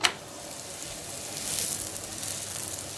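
Sweet ragi adai cooks in ghee on a pan with a faint, steady sizzle, opening with a brief sharp click before settling into a soft, continuous fry.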